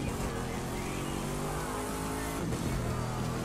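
Corvette in The Crew 2 accelerates hard across a salt flat, the engine screaming in a dense, continuous drone with layered revving harmonics, loud and unbroken from start to finish.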